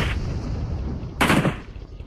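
Gunfire in PUBG Mobile on the Miramar desert map, a sharp loud burst of shots cracking in after a stretch of low rumbling background, then fading into a dull tail.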